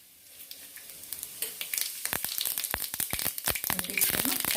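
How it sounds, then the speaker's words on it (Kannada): Mustard seeds hit hot cooking oil in a pan for an Indian brinjal dish, building into dense crackling and popping sizzle that grows louder and busier. "ಎಣ್ಣೆ ಬಿಸಿ ಆದಮೇಲೆ ಸಾಸಿವೆ ಹಾಕ್ಕೊಳ್ಳೋಣ"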